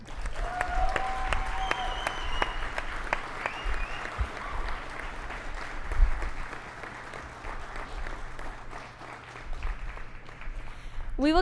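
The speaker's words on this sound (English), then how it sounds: "A big round of applause for all our graduates." Audience applause for graduates at an Airman Leadership School graduation ceremony, sustained clapping from an indoor crowd with scattered whoops and background voices, steady and moderately loud before tapering slightly at the end.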